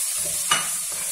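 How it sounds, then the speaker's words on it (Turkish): Chopped onions frying in sunflower oil in a pan sizzle softly, with a single brief stir of the spatula in the middle of the short moment. "Hemen kavurma işlemine geçiyoruz buradan."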